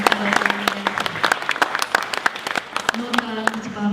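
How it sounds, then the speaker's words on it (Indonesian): Applause at a formal signing ceremony for a memorandum of understanding, with sharp individual claps nearby over a steady patter, while a voice talks through it and a tone sounds near the start and end. "Boleh kita beri tepuk tangan dengan"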